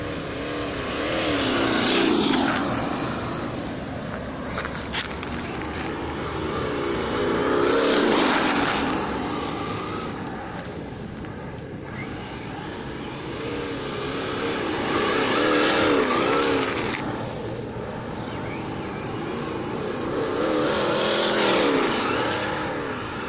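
A Losi Baja Rey RC desert truck on a 3S LiPo with Proline BFGoodrich Baja SC tires runs near full throttle, its electric motor whining in swelling and fading passes as it nears and drives away, steady throughout.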